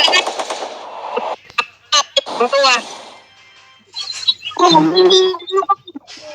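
Rapid bursts of gunfire from a shooting video game crackle through the clip, with players talking excitedly over and between the volleys.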